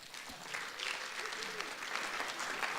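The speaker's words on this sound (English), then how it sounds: "Now give yourselves a round of applause." An audience at a spoken word event claps steadily, sounding soft and somewhat distant, with no talking over it.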